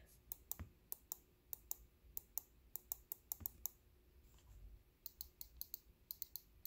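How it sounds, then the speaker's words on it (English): Crisp clicking of the triggers on a SCUF Infinity 4PS controller, sharp mouse-like clicks in quick irregular bursts, faint and close against a quiet background. "They're mouse clicks, or well, they're kind of like mouse clicks."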